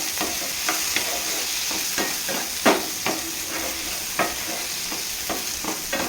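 Chopped tomatoes sauté in a pan while a spoon stirs them, a continuous close sizzle broken by regular scraping and clinking strokes of the utensil, with no talking.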